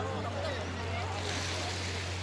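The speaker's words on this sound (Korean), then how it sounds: "철썩이는 그 소리에 돌 굴러가는 소리가 자가 굴러가는 소리가 꼬르륵 나는 그런 해변이거든요" Waves wash over rounded pebbles on a mongdol pebble beach at Byeolcheonpo in Seosan, Korea: a steady, close, hissing surf with a constant low hum beneath and no clear breaks over the short span.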